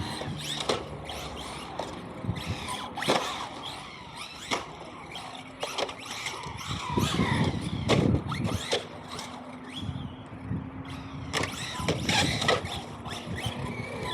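Brushless RC truck, a fast $330 model, driving over rough ground with mechanical whine, rattling and repeated thuds as its chassis bottoms out, loud and close throughout.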